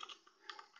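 Typing on a computer keyboard: a brief burst of a few quick, soft keystrokes, quiet and close.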